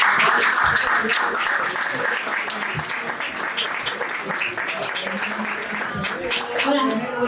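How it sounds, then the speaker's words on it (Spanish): An audience at a tech meetup talk on QA testing applauds a speaker, a dense burst of clapping that fades toward the end, with some voices mixed in. "vamos a darle un fuerte aplauso a la Federica Zorla"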